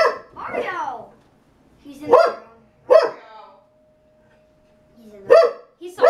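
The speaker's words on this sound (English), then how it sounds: "Yeah, he's barking." A pet dog barks indoors during a Minecraft Mineplex gaming session, with a few sharp, close barks spaced apart while people talk and shout nearby.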